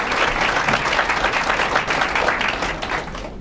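Sustained applause from an audience greets three Nebraska Senate candidates at a debate event, a dense, steady wash of clapping that holds at full strength throughout before easing slightly at the end.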